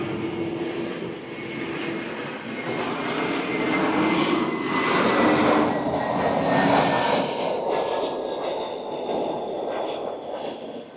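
A JetBlue airliner's jet engines roar steadily at a distance, swelling to a broad loud rush mid-clip as the plane passes, with a faint high whine drifting downward, no talk.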